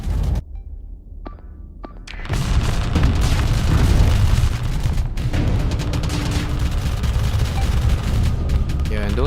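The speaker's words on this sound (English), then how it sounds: "those are missiles" Missiles launching and exploding in the space combat game Starsector, a dense rumbling barrage of booms and blasts that swells after a quieter start and stays loud throughout.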